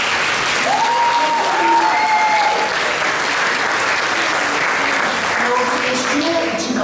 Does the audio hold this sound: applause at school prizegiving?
yes